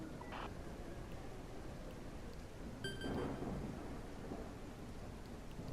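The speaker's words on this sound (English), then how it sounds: "It is raining heavily." Heavy rain hisses as a steady wash in the Battlestar Galactica: Scattered Hopes video game, with a low thunder rumble swelling briefly midway, faint and continuous throughout.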